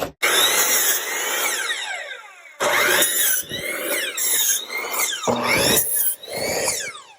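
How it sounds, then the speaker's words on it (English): Pneumatic air nail gun and air compressor driving nails into wood for a birdhouse, a series of loud sharp bursts and clatters with hissing, separated by short pauses. "I'm using an air gun with an air compressor"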